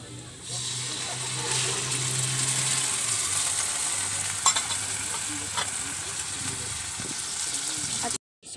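Onions frying in a pan and being stirred: a steady, close sizzle runs throughout with faint scraping strokes, ending in a brief cut to silence.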